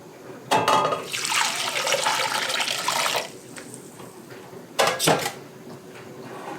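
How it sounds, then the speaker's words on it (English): Vinegar is poured into a smooth hot pepper mustard mixture during canning, a close splashing pour lasting a couple of seconds, followed later by a brief knock or clatter. "we're going to add our vinegar"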